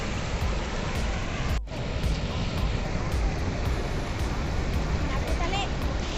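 Water flowing strongly at an outdoor spot in Karimnagar, a continuous, dense rushing wash heard up close with wind buffeting the microphone and a brief dip near the start.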